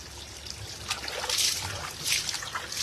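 Water poured over the body while rinsing off during a bath, heard as close, intermittent splashing gushes that swell and fade in a few uneven bursts.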